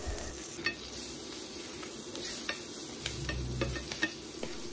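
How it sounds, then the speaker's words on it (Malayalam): Curry leaves and turmeric sautéing in a pan, a steady soft sizzle with scattered stirring scrapes and light clinks, close and continuous without talk. "മഞ്ഞൾപ്പൊടിയുടെ പച്ചമണമൊക്കെ മാറുന്ന വരെ നമുക്കൊന്ന് വഴറ്റിയെടുക്കാം."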